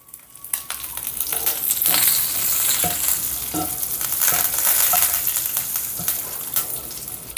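Chana dal, urad dal, mustard seeds, cumin, dried chillies and curry leaves sizzle and crackle in hot oil for a chutney tempering, a loud steady frying hiss with sharp pops and spoon scrapes close by.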